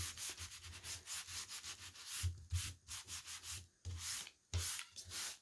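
A cloth rubbing finish onto a faux wood panel for chevron-pattern wall art, heard as close, steady back-and-forth swishing strokes in a repeating rhythm, with brief pauses between passes and no talking.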